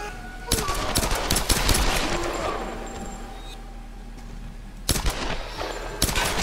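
Bursts of rapid gunfire crack through combat in the video game Tomb Raider, clustered strikes early on and again near the end, with steady background noise in between and no talk.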